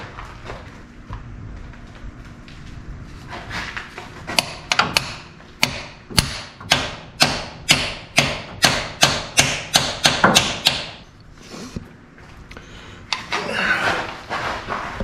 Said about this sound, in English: do your best to hammer it in straight.